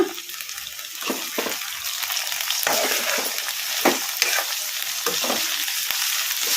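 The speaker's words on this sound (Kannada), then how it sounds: "ಹಾಗೇನೆ ಟಮಾಟ ಹಾಕೋಣ ಈಗ ಫ್ಲೇಮು ಹೈ ಫ್ಲೇಮಲ್ಲಿ ಇಟ್ಕೊಂಡು ಒಂದೆರಡು ನಿಮಿಷ ಅಲಸ್ಕೊಂತ ಕುದಿಸ್ಕೊಂಬಿಡೋಣ" Tomatoes cooking over high flame in a pan, a soft continuous sizzle broken by repeated scraping strokes of a spoon as they are stirred.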